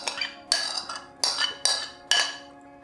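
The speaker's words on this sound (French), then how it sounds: "On mélange tout." Fries and vegetables tossed together in a pan for Tunisian kaftéji with merguez, giving five sharp clinks of a utensil against the pan at uneven intervals. Each clink trails off into a short scrape, close and moderately loud, with no talking.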